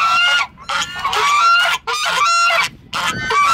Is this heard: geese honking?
yes